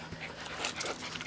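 A purebred boxer dog whimpers indoors, a few short, close, high-pitched whines in quick succession over a second or so.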